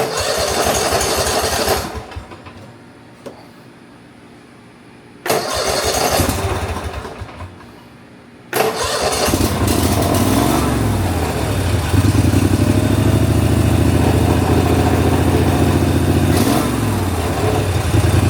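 A Snapper zero-turn mower engine with a replaced carburetor cranks in bursts on choke, sputters between attempts, then catches and settles into a loud, steady, rough-running roar that revs unevenly.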